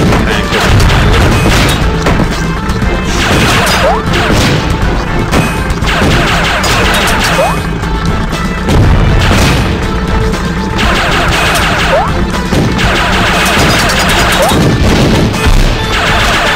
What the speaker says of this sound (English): You can blow up the tank with the pilot.